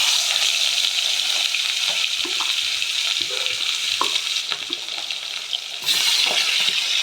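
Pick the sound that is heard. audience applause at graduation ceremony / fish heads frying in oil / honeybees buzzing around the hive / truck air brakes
fish heads frying in oil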